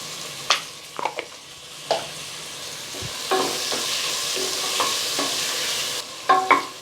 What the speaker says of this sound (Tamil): தக்காளி நல்லா மசிஞ்சு வர அளவுக்கு இதை வதக்கி விட்டுக்கலாம்